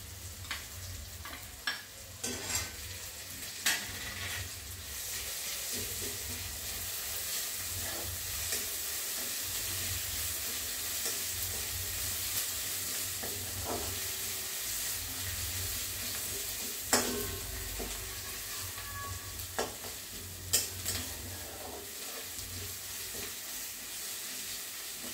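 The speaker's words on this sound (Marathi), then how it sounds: "आता हा बटाटा कांदा परतला गेलाय बघा चांगला।" Potato and onion sautéing in a pan with coriander and ginger-garlic paste, a steady close sizzle broken by repeated scraping stirs and clinks of the spoon, no talking.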